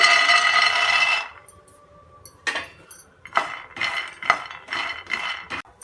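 Peanuts dry-roasting in a pan are stirred and tossed, making a hard rattling scrape at first, then a quiet pause, then several rhythmic rattling bursts.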